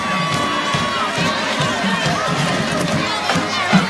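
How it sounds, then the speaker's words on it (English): A homecoming football crowd in the stands before kickoff at a high school game keeps up a constant roar of cheering and shouting, with children's voices mixed in, loud and continuous throughout. "Good Hope Raider crowd, they're fired up for homecoming."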